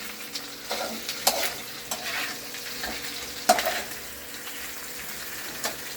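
Chopped onion frying in a pan, close to burning, crackles with a soft steady sizzle while utensils scrape and clatter against the pan in irregular bursts.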